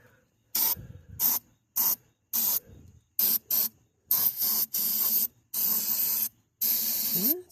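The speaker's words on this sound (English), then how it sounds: "Ain't nothing but electrical brake clean." Electrical brake cleaner sprayed from an aerosol can while removing a trailer hitch: about ten sharp hissing bursts, some short, some held for a second or more, with quiet gaps between them and no speech.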